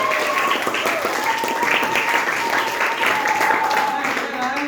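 Classroom applause from students, a dense steady patter of many hands clapping at close range for several seconds, with some voices mixed in.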